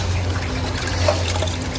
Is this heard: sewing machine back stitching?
no